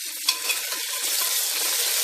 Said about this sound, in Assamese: এয়া পিঁয়াজ বিলাহী ভালদৰে খুব ধুনীয়াকৈ ভাজি ল'লোঁ।